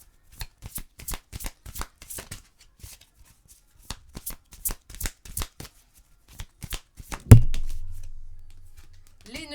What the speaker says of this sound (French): On va aller vous chercher une carte de message de ta flamme jumelle de David Sabat.